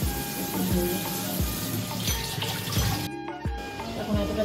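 Sweet food being rinsed under a running tap in a kitchen, a steady stream of splashing water with a few dull knocks and a brief quieter gap near the end, with faint background noise.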